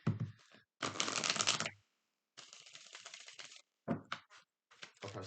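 Tarot cards being shuffled by hand in several separate bursts, crisp riffling flutters close up with short silent gaps between them and no talking.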